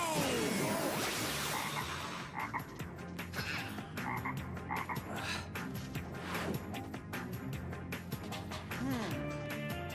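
Toads croak in a cartoon amid a magical spell scene, loud rapid rhythmic croaking that persists throughout, layered with swooshing effects and music.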